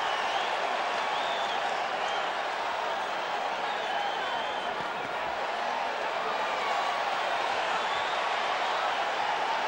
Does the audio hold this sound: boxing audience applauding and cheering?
yes